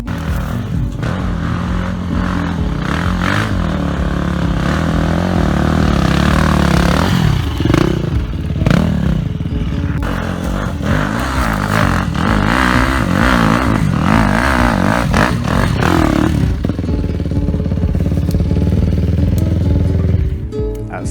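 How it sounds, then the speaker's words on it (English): An electric bike climbing a mountain trail near Gangneung's Chilbongsan, giving a steady, loud motor and drivetrain drone with gravel scraping and clattering throughout, shifting in pitch as the rider works up the slope. "Today we've got this electric bike with us, and it's doing pretty well."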